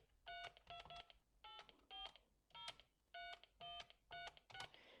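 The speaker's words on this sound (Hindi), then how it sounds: "अब ये देखें, ये मैंने नंबर डायल किया।" A telephone number is dialed on an external exchange line, producing about ten quick DTMF keypad tones in uneven bursts, each a short, clear dual-pitch beep over faint line hiss.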